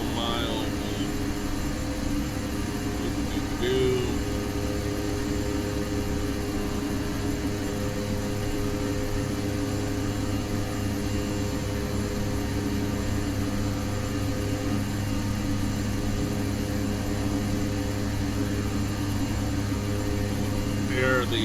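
Twin turboprop engines of a Dash 8-100 airliner in Flight Simulator X, a steady droning hum with a constant tonal whine, unbroken and even throughout, with brief faint cockpit sounds.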